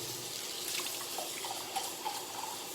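Warm water runs steadily from a farm sink tap, rinsing a glass with a soft, continuous close splashing hiss and a few brighter splatters as the glass moves under the stream.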